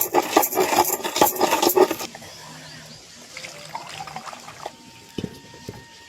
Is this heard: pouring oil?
yes